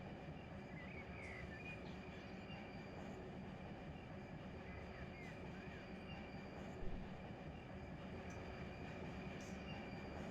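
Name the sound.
train locomotives moving in Run8 train simulator video game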